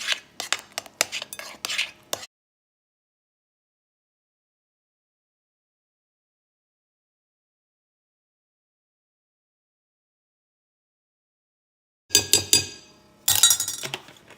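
Keto double chocolate cake batter is mixed after a teaspoon of vinegar goes in: brief bursts of a utensil clinking and scraping against a bowl, then a long silence, then more clattering stirring.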